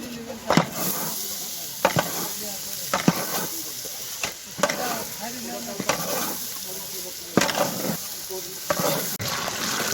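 Khichuri cooking in a pot over heat, with a spoon scraping and stirring in regular strokes about every second and a half over a steady background sizzle and bubbling, close and moderately loud.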